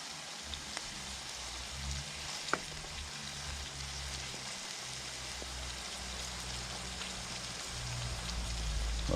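Frozen oyster mushrooms frying in oil in a pan, a soft, steady sizzle heard fairly quietly and close, with one or two faint clicks and no voices.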